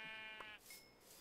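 A single Minecraft sheep gives one short, wavering bleat up close, followed by faint game ambience.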